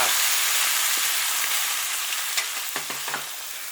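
Boiling water pours into a hot iron wok used for stewing lamb ribs, giving a loud steady hiss and sizzle that slowly fades, with a few faint knocks near the end.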